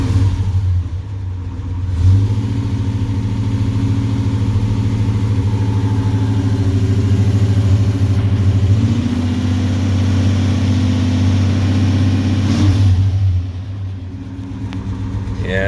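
A 1964 Mercury Marauder's FE 390 V8 with Tri-Y headers rumbles close by, climbing from idle into a sustained rev with a deep steady drone, then easing back down near the end.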